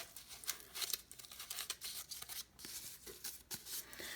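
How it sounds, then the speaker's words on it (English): Quiet snipping and tearing of cardboard with scissors, a string of close, crisp cuts and crinkles in uneven rhythm with no voices. "Just kind of snip it out using your scissors."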